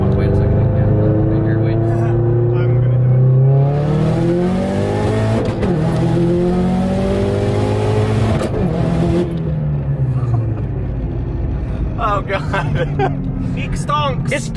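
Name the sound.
Subaru WRX engine revving, flat-foot shifting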